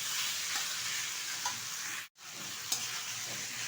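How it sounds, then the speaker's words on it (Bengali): Taro leaves cooking with a hilsa fish head and coconut are stirred in a pan, giving a loud, continuous sizzle with soft scraping strokes and one short break near the middle; no talking. "এবার সুন্দরভাবে আমি একটু নেড়ে চেড়ে নেবো বেশ কিছুক্ষণ ধরে, কারণ কচুটা কিন্তু হতে সময় লাগে।"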